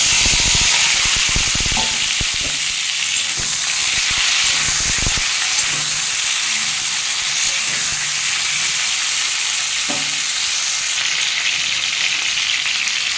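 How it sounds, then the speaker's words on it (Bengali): Tomatoes dropped into hot tempering oil for a tomato masoor dal crackle and sizzle loudly and steadily close up, with scattered pops and occasional stirring scrapes and no talking. "আমি এবার এর মধ্যে টমেটোগুলো দিয়ে দেবো"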